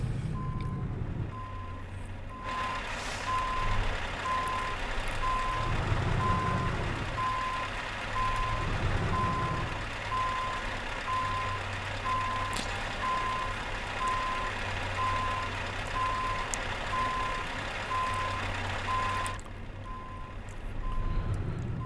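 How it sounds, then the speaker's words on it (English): Reversing beeps sound from a truck in the Euro Truck Simulator 2 video game during trailer parking. The beeps repeat steadily at an even pace over a continuous engine rumble, stopping and starting near the edges with no speech. "if you are driving with ETS, you should only look at the ETS demos"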